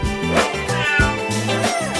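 Kitten meowing in a playful setting, a few tonal mewing cries over a dense bed of music or other sound, fairly loud throughout.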